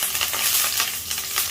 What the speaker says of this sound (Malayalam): കടുക് പൊട്ടിക്കഴിയുമ്പോൾ നമുക്ക് അതിലേക്ക് കൊച്ചുള്ളി, വറ്റൽമുളക്, കറിവേപ്പില എന്നിവ ഇട്ട് കൊടുക്കാം